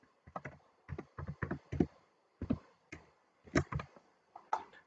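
Keys on a computer keyboard tap in short irregular bursts as a password goes in, the clicks close and fairly soft with brief pauses between runs, no voice present.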